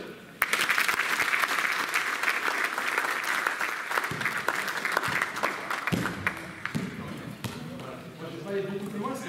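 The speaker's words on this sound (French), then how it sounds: "On peut s'applaudir." Applause at a coaching campus session on attacking play, a dense burst of clapping that starts suddenly and stays loud, then thins out with scattered individual claps and talk coming in over the tail.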